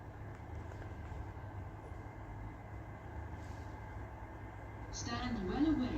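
A pair of Class 158 diesel trains runs through Castleton station on a Leeds to Wigan Wallgate service, making a steady low rumble that swells near the end. Voices sound faintly on the platform.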